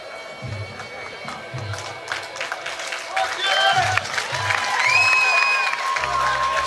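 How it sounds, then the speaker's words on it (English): A Muay Thai fight crowd applauds and cheers in a broad, continuous roar while low drum-like thumps beat underneath, the noise swelling louder partway through. "Good to see the crowd appreciating the Ram Muay"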